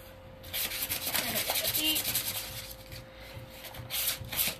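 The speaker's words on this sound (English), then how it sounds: "Get the sanding off." Close, steady back-and-forth rubbing of sandpaper over painted furniture, a spindle piece being worked, with an even rasping texture and small fluctuations in strength throughout.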